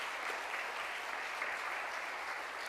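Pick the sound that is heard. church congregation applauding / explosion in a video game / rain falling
church congregation applauding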